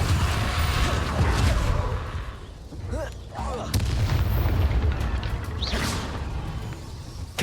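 Repeated booming blasts of the Confringo explosion spell in Hogwarts Legacy rumble loudly and continuously, mixed with whooshing spell effects and brief crashes.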